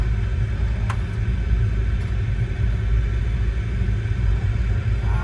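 DC-3 aircraft in formation flight over Sweden, its radial engines under throttle giving a constant deep, loud rumbling drone heard from inside the cockpit.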